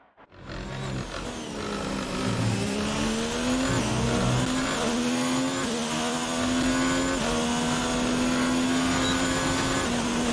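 Formula 1 car engine in the F1 2019 video game at Sochi Autodrom, Russia, starting up and revving then holding a loud, sustained high-pitched scream through gear changes, with no talking.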